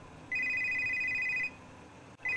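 A mobile phone rings with a steady electronic tone, one long ring burst followed by a short pause and the start of another, clear and fairly close.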